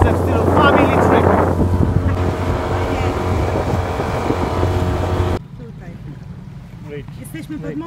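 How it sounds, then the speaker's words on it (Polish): A motorboat engine drones steadily through a ride on a river in Kovvur, Andhra Pradesh, India, with wind buffeting the microphone and water rushing alongside; the noise drops suddenly near the end, leaving quieter voices. "Właśnie będziemy spędzali piękne 10 minut wspólnie na motorówce"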